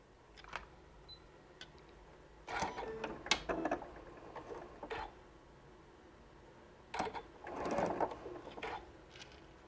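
Sewing machine stitching a quilting template piece at a short stitch length, in quiet bursts of rapid mechanical whirring separated by pauses, with clicks and handling noises between runs.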